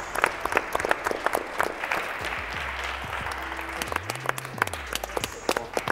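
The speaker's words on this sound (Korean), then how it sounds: "큰 박수 부탁드립니다" Audience applause fills the room at a Korean startup competition awards ceremony as the top three founders receive plaques, a steady dense wash of clapping with some low tonal sounds underneath.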